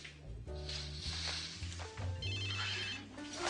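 A telephone rings with a bright electronic ringtone, its repeating tonal pattern sounding over low background music for several seconds.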